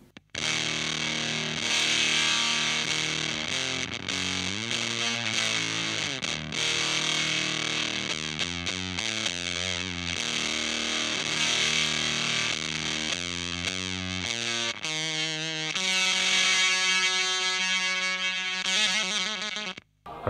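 Electric guitar on the bridge pickup through an Earthquaker Devices Erupter fuzz pedal set at minimum, playing a continuous distorted riff with chugging rhythmic chords and sustained fuzzy notes, loud and alone.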